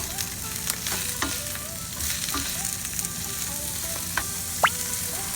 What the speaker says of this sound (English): Then add the mushroom and mix it with other ingredients.